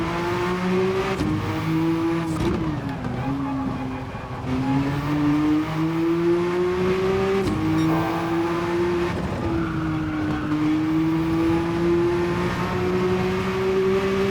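Gr.1 race car engine in Gran Turismo 7 drones steadily at high revs, its pitch rising and dipping through gear changes and throttle inputs, loud and continuous throughout, lap near Spa on racing hard tires.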